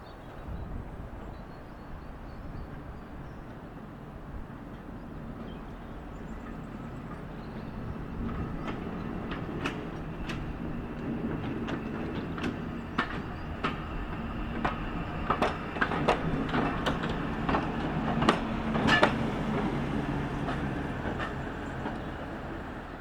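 The 1903 North Eastern Railway electric autocar No. 3170, built at York Works, runs on the Embsay & Bolton Abbey Steam Railway in North Yorkshire: a steady rumbling drone that grows louder, with sharp rail clicks and clatter toward the end.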